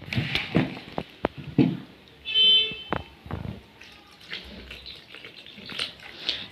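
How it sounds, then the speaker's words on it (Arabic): Water pours briefly into a bowl of flour and oil for pizza dough with a soft splashing burst, surrounded by light clinking and handling noises in a quiet kitchen. "هننزل بشويه ميه معاهم"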